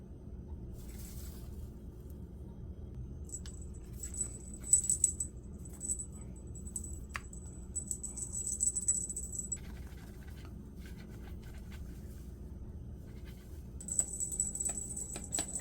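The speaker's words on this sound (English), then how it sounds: "He heard the bell and he just came running." Small bell on a cat toy jingles in light, bright bursts, loud near the middle and again at the end, over a steady low household rumble with no talking.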